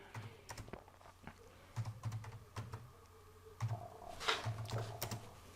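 Keyboard keys tapped at an uneven pace while C code is entered on a computer, soft close clicks in short bursts and pauses, with a faint low hum beneath.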